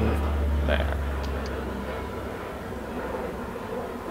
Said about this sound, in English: I'm pretty sure you just heard a jet plane going over my house, flying over my house